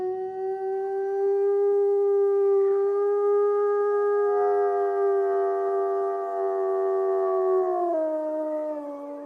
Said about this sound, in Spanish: la reproducción de los aullidos grabados en un simple magnetófono